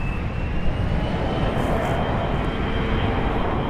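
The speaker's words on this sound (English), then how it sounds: "Bahamas Air on final, just behind us here" Bahamasair airliner flying downwind near Raleigh-Durham International Airport, a steady broadband engine roar that stays loud and constant with no pauses.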